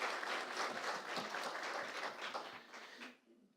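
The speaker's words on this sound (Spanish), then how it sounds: "Un aplauso, por favor, para ella." Seminar attendees at a national education panel in Colombia clap for a panelist, giving a brief, quiet burst of applause from a small room that tapers off near the end.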